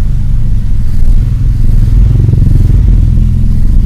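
A Toyota Kijang car engine idles at a standstill while warming up, giving a loud, steady, close-up low rumble with a faint mechanical clatter and no talking.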